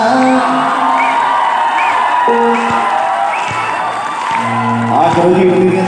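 Crowd cheering and whooping at a live concert in Italy, continuous and fairly loud, mixed with sustained music and voices throughout.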